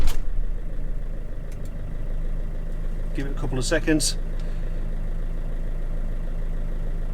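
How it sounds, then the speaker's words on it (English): A vehicle engine cranks briefly and catches partway through, then settles into a steady, low idle that continues to the end, with someone speaking a few words early on. "now I shall start the engine."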